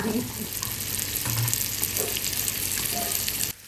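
Pieces of halwa (pomfret) fish dropped into hot oil for a Malvani fish fry, sizzling and crackling steadily at close range for several seconds before cutting off abruptly, with no talk.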